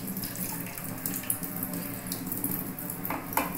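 Water being squeezed out of soaked soybean chunks by hand in a kitchen, a steady close splashing trickle of water with small wet squelches and no speech.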